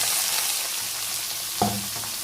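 Carrot frying and being stirred in a pan with cumin, chana dal, onion and curry leaves, a steady close sizzle with a brief scrape of the spoon partway through, no voices.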